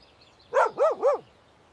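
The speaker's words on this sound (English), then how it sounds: "a dog." A dog barks three times in quick succession, close and clear, with quiet before and after.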